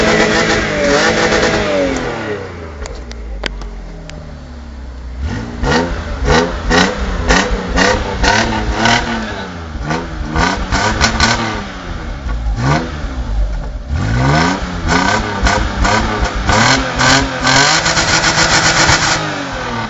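A stock Opel Omega with a 3.0 engine revs hard again and again, each throttle blip rising and falling in a loud, close run of roars with brief idle gaps between.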